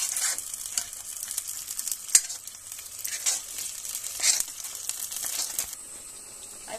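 Masala fries and sizzles in a pan under brisk stirring, a crackling sizzle broken by sharp scrapes and clicks of the spoon, close by, with no voices.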